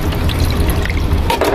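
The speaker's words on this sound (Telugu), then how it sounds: "ఇది ఉడికినాక నేను చెప్పినంత అట్లాగనే నేనైతే వాటర్ అయితే పోస్తున్నా." A cup of water poured into a pan of okra curry, a short close gush and splash of liquid over a low cooking hum, lasting just over a second with no talk.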